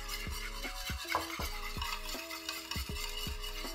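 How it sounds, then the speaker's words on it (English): A spoon stirs a fried rice sauce seasoned with salt and MSG, giving a regular, rhythmic scrape and clink against the bowl about twice per second. The sound is close and fairly quiet, with no talking. "Give that a stir."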